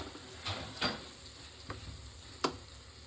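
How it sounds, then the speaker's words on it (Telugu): Ingredients being stirred and mixed into rice in a pan, a soft sizzle beneath several sharp spoon scrapes and clinks at irregular intervals, close and fairly quiet, with no talking. "ఇప్పుడు వీటన్నిటిని మంచిగా కలిసేటట్టు రైస్లో కలిపేసుకుందాం."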